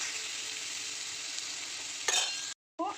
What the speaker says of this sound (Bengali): আলুগুলো দিয়ে হালকা করে কষিয়ে নেব।